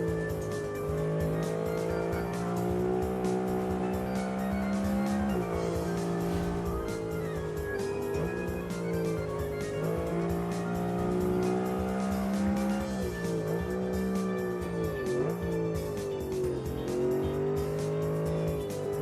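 Simulated race car lapping the Nürburgring in BeamNG, a loud, steady engine howl rising and falling through gear changes with brief tire squeal, constant and close throughout.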